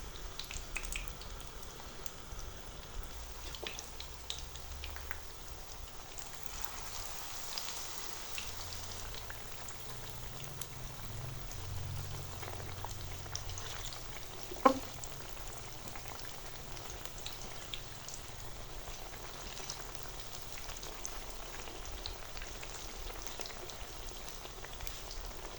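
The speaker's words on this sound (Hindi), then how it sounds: "अब आलूओं को पेस्ट में डिप करके फ्राई कर लेते हैं" Potatoes dipped in batter deep-fry in hot ghee, making a soft, steady hiss like light rain with faint bubbling, mostly even in level apart from one sharp tap midway.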